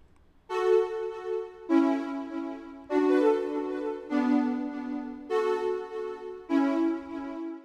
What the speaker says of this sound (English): This is the retro synth.